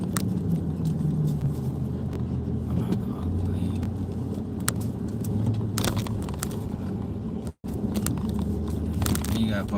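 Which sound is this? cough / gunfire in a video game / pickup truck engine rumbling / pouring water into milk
pickup truck engine rumbling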